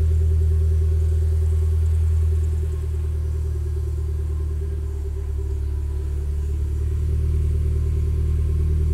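A 2015 Mitsubishi Lancer Evolution engine idles with a steady low rumble and hum, loud and close, its tone dipping slightly partway through before settling again.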